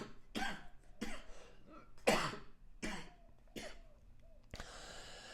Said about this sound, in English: Let me just cough a little bit.